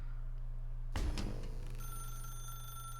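A telephone in The Stanley Parable video game rings with a bright electronic trill that starts abruptly and holds steady, loud and close, with no talk over it.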